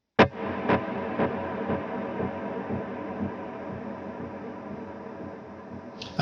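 Electric guitar snapshot drenched in delay and a long-blooming reverb, opening with a sharp pluck whose repeats pulse and fade into a sustained wash, then a fresh strike at the end; no voices.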